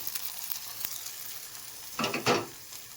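Tempering being mixed into dal rasam in a pot, a soft sizzle under light stirring, then two louder splashing, scraping bursts near the end, close by with no voices.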